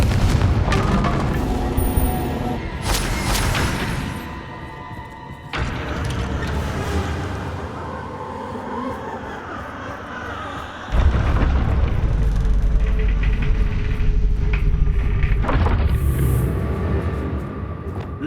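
Blasting spell explosions from a fantasy wizard action game, several heavy booming blasts with rumbling tails, loud and close, arriving in bursts over a dense layer of game sound.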